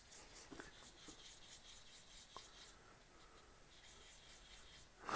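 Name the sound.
sanding a resin turning with sandpaper grits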